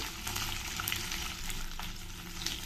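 Onions sizzle in hot oil with green chilies and curry leaves, a steady dense frying hiss running throughout with light stirring, close and fairly loud, no voices.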